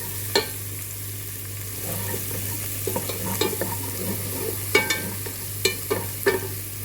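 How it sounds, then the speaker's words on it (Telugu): Curry leaves and chopped coriander sizzle in hot oil in a pan while cooking soya chunks pulao, a soft steady frying hiss broken by several sharp crackles and stirring scrapes. "కరివేపాకు వేసుకుందామండి. ఇందులోనే కొత్తిమీర వేసుకున్నామండి."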